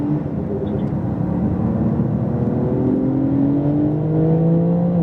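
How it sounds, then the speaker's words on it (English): A Porsche 911 Turbo S at full throttle down a track straightaway, a steady loud engine drone with rising whining tones climbing in pitch as the car accelerates, heard from a close, continuous vantage. "full throttle all the way down that straightaway"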